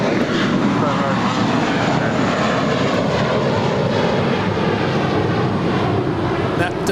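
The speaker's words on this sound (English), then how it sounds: "That departure was American 2110 departing to Boston." An American Airlines jet departing Los Angeles International Airport for Boston gives a loud, steady engine roar throughout, with voices talking over it.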